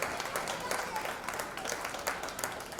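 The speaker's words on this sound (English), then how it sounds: "can we give everyone a round of applause?" Fairly faint applause from the crowd at a 2019 swine show, a brief, even patter of clapping in a large venue.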